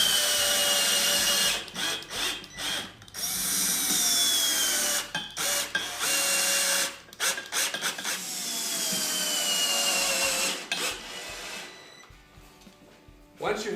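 A power driver runs fasteners into a Color Guard leveling post mounting bracket in bursts of whirring, each spin starting and stopping abruptly, with short pauses between runs, close and loud.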